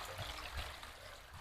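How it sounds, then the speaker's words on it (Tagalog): Several hand wash faucets running together, a soft steady trickling flow of water, faint and continuous, with a little room noise. "Sabay na agos yung mga gripo rito."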